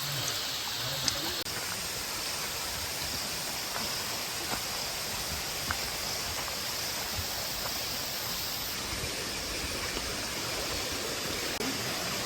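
A waterfall on the Agasthyarkoodam trek gives a steady, unbroken roar of rushing water that fills the whole stretch, close and constant, with no voices.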